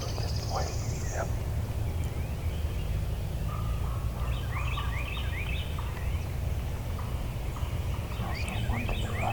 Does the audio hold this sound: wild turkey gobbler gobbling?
yes